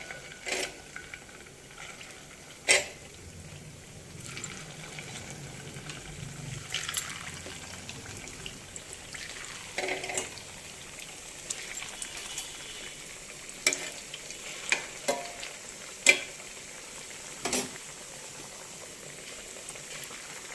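Sweet jaggery appalu, a Sankranti treat, bubble and fry in hot oil with a soft continuous simmer, broken by occasional sharp clinks and stirring knocks of a utensil against the pan.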